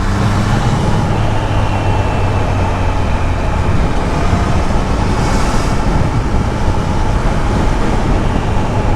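Triumph Trident 660 motorcycle pulling hard in fifth gear, a steady, loud, broadband roar of engine and rushing wind from start to end, with no breaks or gear changes.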